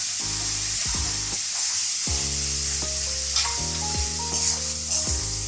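Garlic frying in a pan for lote fish bhorta, crackling with a loud steady sizzle while a spoon stirs and scrapes at the pan in irregular strokes, up close and with no talk.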